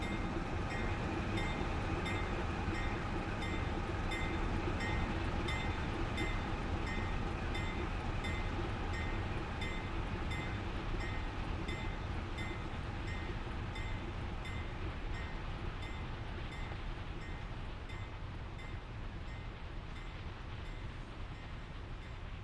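Steady rumble and rolling hum of a train driven in a simulator game, continuous and even throughout, with a low engine drone and faint rhythmic rail clatter and no voices.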